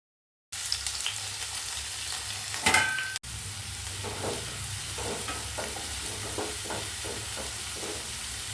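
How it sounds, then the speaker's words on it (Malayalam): Onion frying in coconut oil with mustard seeds begins after a brief silence with a close clatter, then settles into an even sizzle with regular stirring scrapes. "വെളിച്ചെണ്ണ ഒഴിച്ച് കടുക് ഇട്ടിട്ടുണ്ട്. ഇനി നമുക്കതിലേക്ക് സവാള ഇട്ട് കൊടുക്കാം."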